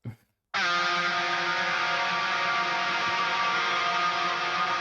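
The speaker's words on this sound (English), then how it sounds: "Just absolutely drowned in reverb." A dense, sustained modern metal chord washed in heavy reverb, starting abruptly after a brief sound and holding steady and loud throughout.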